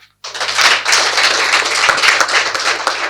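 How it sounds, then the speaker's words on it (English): An audience claps loudly and steadily after a talk on healing from gender-based violence and sexual trauma, beginning abruptly from silence and holding as dense, close applause to the end. "Well, a better clap."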